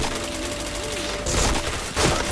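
Rapid gunfire from the first-person shooter Point Blank, a dense burst of shots at close range, with a louder burst near the end and a voice in the background.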